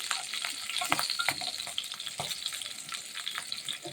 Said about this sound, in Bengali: একটু কালো জিরেটা আর লঙ্কাটা একটু ভাজতে দেবো, যতক্ষণ পর্যন্ত ভালো করে ভাজা না হয় ততক্ষণ একটু নেড়ে ছেড়ে ভেজে নিচ্ছি।